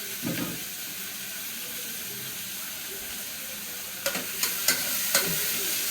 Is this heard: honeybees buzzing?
no